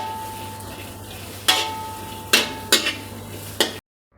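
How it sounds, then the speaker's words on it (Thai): Garlic and chinda chilies stir-roasting in a pan for nam prik pla tu, a low steady sizzle broken by four sharp scraping stirs of a utensil against the pan, the last followed by abrupt silence. "เราจะใส่พริกจินดาลงไปเลยนะครับ ทำการคั่วลงไปเลยนะครับ"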